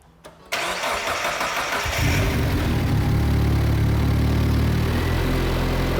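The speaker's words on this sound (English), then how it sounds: "So if you start the car" A turbocharged Mazda MX-5 Miata engine cranks briefly, catches, and settles into a loud, steady idle that deepens after a couple of seconds.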